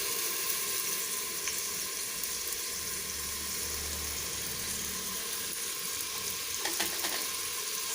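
Blended spice paste for tempeh bacem fries in a little oil: a continuous, fairly soft sizzle and crackle up close, with a faint low rumble partway through and no speech.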